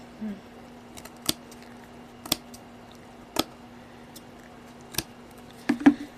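Sharp scissor snips, spaced about a second apart, end in a quick double snip over a faint steady hum. No one speaks.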